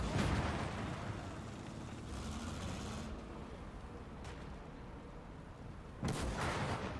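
Mountain gun artillery firing in a WWII strategy game on the Eastern Front, a few muffled booms spread over a low, rumbling battlefield bed, with one sharper blast near the end.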